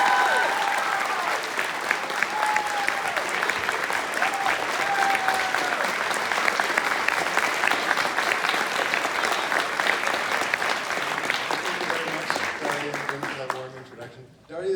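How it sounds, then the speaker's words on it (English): Loud, sustained applause from a large audience in a school auditorium fills the room for about twelve seconds, with a few scattered cheers near the start, then tapers off abruptly near the end. "please invite him to the stage with a roaring round of applause"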